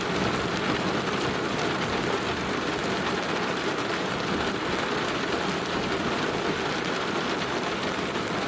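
Heavy rain pours steadily during a thunderstorm, a dense, constant patter with low rumbling underneath and no voices.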